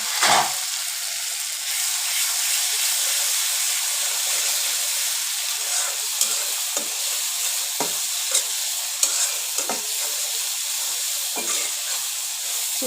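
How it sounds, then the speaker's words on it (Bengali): Fresh shrimp and green chilies sizzle in a frying pan for a red amaranth dish, a steady bright hiss running throughout with occasional soft clicks and stirring scrapes, close and alone without talk. "এখানে কাঁচামরিচ আর চিংড়ি মাছটা দিয়ে দিব।"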